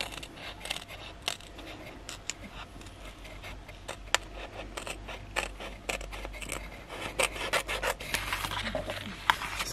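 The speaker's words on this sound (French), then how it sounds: "Là, je vais découper" Scissors cutting out a homemade printed butterfly sticker, giving a close series of irregular rasping snips and paper rubbing clicks throughout, fairly quiet with no talking.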